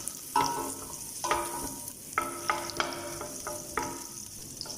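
Butter sizzles and melts in a hot pan, a steady crackling fry punctuated by several sharp clinks of a utensil stirring, close up with no talking.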